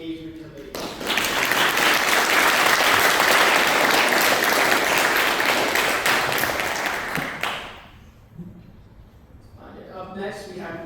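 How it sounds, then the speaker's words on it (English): A student government senate audience gives the engagement committee a strong, sustained round of applause that swells after a brief spoken lead-in and fades out, followed by a speaker's voice. "So just want to give one more round of applause to the engagement committee."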